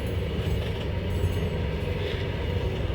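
A long train rolls past at a rail station in Goalpara, a loud, steady rumble and rattle of wheels that keeps going throughout with no voices.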